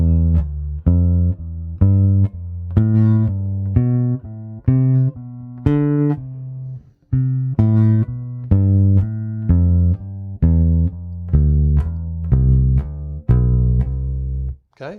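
Electric bass guitar in a dynamics exercise, notes alternating between quiet and loud in a steady repeating pattern, played alone and close.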